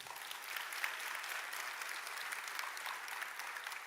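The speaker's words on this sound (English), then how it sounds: "Let's give them a hand of applause." An audience at a university graduation ceremony for law and military science claps in steady, dense applause, moderately distant and even throughout, with no talk over it.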